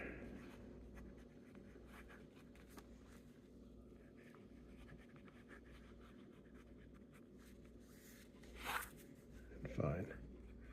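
A Hongdian D5 fountain pen writes on paper, giving soft, faint scratchy nib strokes against a low background hum, with a couple of louder rustling bursts near the end.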